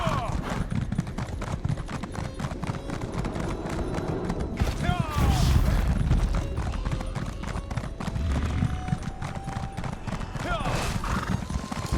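Horse hooves clopping steadily in Elder Scrolls Online, a continuous dense trotting rhythm with a whinny partway through, set against game ambience and music.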